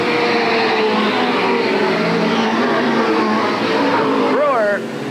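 Sprint cars roar around Eugene Speedway in a loud, constant wall of engine noise, with a brief rising whine near the end before the sound drops slightly.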